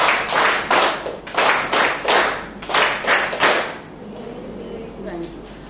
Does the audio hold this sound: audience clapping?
yes